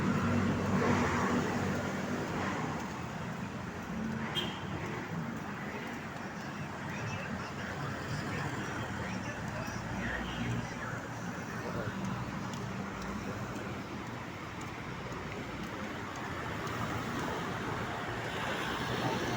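Steady roar of vehicles streaming past on a narrow highway, a continuous dense rumble with no clear gaps, loud and close throughout.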